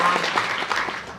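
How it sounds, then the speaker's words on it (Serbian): A conference hall audience of librarians and guests applauds, a brief burst of dense clapping that starts strong and begins to fade toward the end. "Molimo vas da sada aplauzom pozdravimo sve goste Bibliotekarskog društva Srbije i učesnike konferencije."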